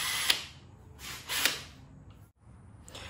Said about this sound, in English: now I will try to drill a hole here, both sides, for my aftermarket light